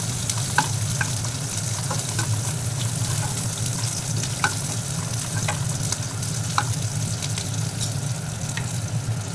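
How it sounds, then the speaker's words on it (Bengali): Chopped onions fry in a hot pan for a jackfruit pakora curry, giving an even, loud hiss with small spatula clicks scattered throughout. "পেঁয়াজ কুচি দিয়ে দিচ্ছি, পেঁয়াজটা একটু হালকা করে ভেজে নেব আমি।"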